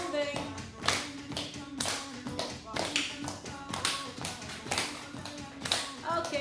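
Hands clap in a steady rhythm during a low-impact Zumba Gold workout, the claps mixing with foot taps and shuffling steps at a moderate distance while an instructor's voice runs over the top.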